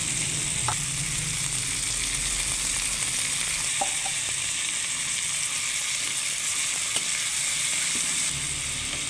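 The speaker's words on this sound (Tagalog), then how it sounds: "Prito natin ng bahagya." Potatoes and corned beef sizzle and crackle steadily in a hot pan, with a few faint clinks from stirring, and no talking.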